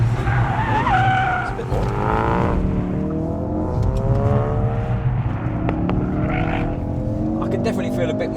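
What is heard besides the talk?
Ford Focus RS drifting, tyres skidding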